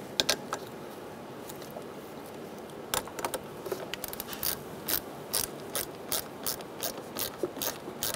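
A ratchet with a 10 mm socket tightening the negative battery terminal on a 2010-2013 Kia Soul 2.0L, close rapid clicking in short repeated bursts that grow more regular.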